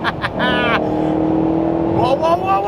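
A Ford GT accelerating hard on the road: a loud, close engine drone holds a steady pitch, then climbs sharply near the end as the revs rise.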